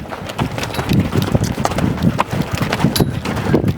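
Horse hooves at the lope, a fast, steady, rhythmic drumming of close hoofbeats on the ground with some wind noise throughout.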